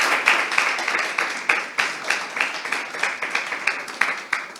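A room full of people applauding a speaker at a conference, dense clapping that swells and continues steadily for several seconds.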